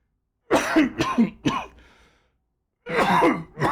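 Someone coughs in a quick series of harsh bursts, close up, then after a brief pause coughs twice more.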